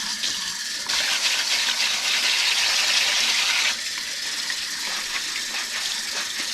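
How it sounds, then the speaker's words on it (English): Water runs from a tap over freshly picked garden herbs in a steady, close hiss that swells louder midway as the rinsing flow hits them, then settles back to a gentler stream. "I'm going to give that a quick rinse."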